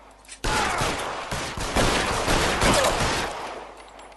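Rapid gunfire bursts from a video game fill the whole stretch, loud and dense with sharp repeated cracks after a brief quiet start, with no one speaking.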